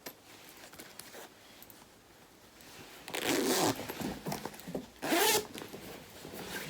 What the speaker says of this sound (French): Et j'ai monté la fermeture éclair.